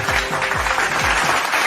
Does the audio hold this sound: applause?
yes